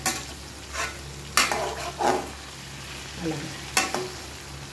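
Vegetables being stirred and fried in a pan for a home lunch, with scraping spoon strokes and clinks over a low sizzle and a brief spoken word.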